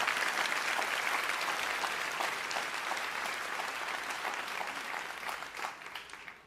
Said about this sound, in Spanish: si vas a aplaudirlo con más ganas el día de hoy